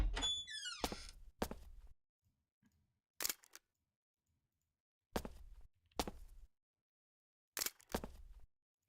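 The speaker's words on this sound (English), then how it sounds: "It's a Gargoyle arrow trap." An arrow trap in the Dungeons of Dredmor video game fires as a series of short, sharp clicks and thunks separated by silences, close and moderately loud, with no voices.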